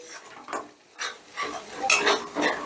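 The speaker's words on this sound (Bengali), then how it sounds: "এবার এই মশলাটাকে বেশ ভালো করে কষে নেব" Spice paste (masala) is sautéed in a pan for a country chicken curry, with repeated scraping and stirring strokes of a utensil against the pan over a soft sizzle, close and without speech.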